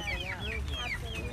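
A chicken clucks in short, bright chirping bursts over a low background rumble, brief and close.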